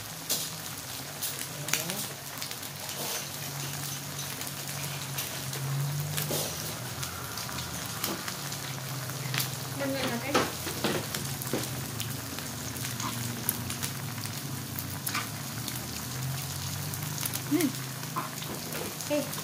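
Food sizzles and crackles steadily on a Korean hotpot grill, a dense close frying hiss with scattered pops and occasional utensil scrapes, lasting throughout while people talk faintly at times.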